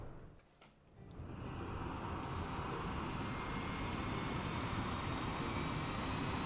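An airplane in the Xenoblade Chronicles X video game gives a loud, steady engine roar that swells in after a short quieter start and holds for several seconds with no talking.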